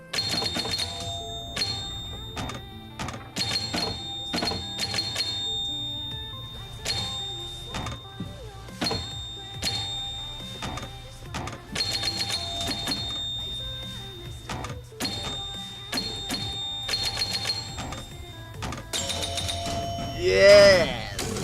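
Pinball machine in play on its last ball, with repeated flipper thunks, bumper hits and electronic chimes over a steady mechanical hum; a voice speaks over it briefly.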